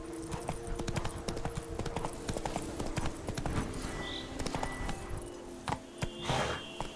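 Roach the horse's hooves clip-clopping in The Witcher 3, a quick, continuous rhythm of hoofbeats with a faint whinny and a short call from the rider in the middle.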